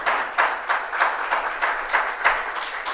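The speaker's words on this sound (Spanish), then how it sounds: "Un aplauso al Señor." A church congregation claps in a rhythmic, evenly spaced pulse, about three claps a second, fairly close and with no talking over it.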